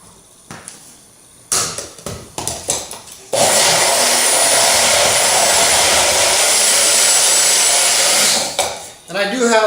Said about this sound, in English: And blend away.